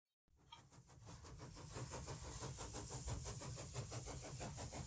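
A train sound is played back by a Wi-Fi audio notifier, starting abruptly after a short silence as a rhythmic chugging rumble that builds and then holds steady, fairly faint overall.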